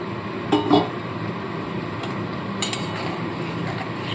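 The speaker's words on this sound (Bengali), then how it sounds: "তো এবার ভেজে রাখা আলুগুলো এর মধ্যে দিয়ে দেবো" Fried potatoes dropped into a cooking pot of simmering fish curry and stirred, a brief clatter of utensil against the pot followed by faint scraping over a steady background hiss.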